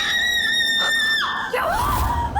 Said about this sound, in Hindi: क्यों चिल्ला रही है?